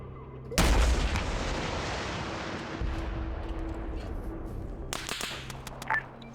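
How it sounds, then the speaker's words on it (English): Rocket launcher fired in a military video game set in Russia, heard as a sharp loud blast followed by a long rumbling tail, then a couple of fainter distant cracks near the end. "whoever I just hit with that rocket is probably dead"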